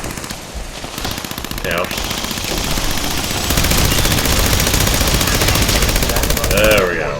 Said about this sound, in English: So you gotta stop firing your gun in order to heal.